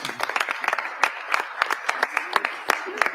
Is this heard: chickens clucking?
no